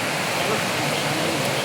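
A mountain stream that feeds a drinking-water supply, flowing near a wooden footbridge, heard as a steady, close rush of water with no break.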